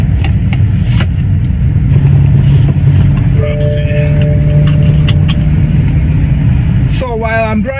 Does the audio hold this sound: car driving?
yes